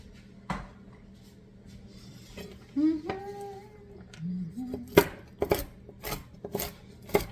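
A knife coarsely chops pecans on a board in a handful of sharp, uneven knocks, mostly toward the end, with a voice talking in between and a low hum underneath.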